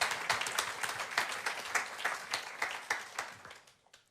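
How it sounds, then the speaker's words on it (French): Audience applause fills a conference room after a talk on plant nutrition in conservation agriculture: steady, dense clapping from a seated crowd that gradually thins and fades toward the end. "Merci, on peut l'applaudir."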